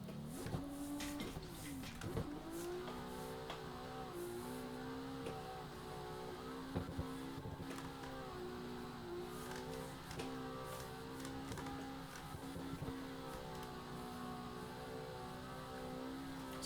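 Virtual car drifting through a corner in Assetto Corsa, a continuous strained engine drone with shifting pitch, holding at steady revs and rising and falling through the turn, moderately loud throughout.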